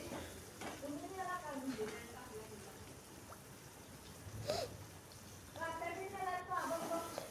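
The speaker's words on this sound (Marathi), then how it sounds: "सगळे टोमॅटो टाकून चांगलं व्यवस्थित परतून घ्यायचं, मिक्स करून घ्यायचं।" Tomatoes are stirred and tossed in a hot pan while cooking cabbage bhaji, giving a steady soft sizzle with scraping stirs, under a voice that talks over most of it.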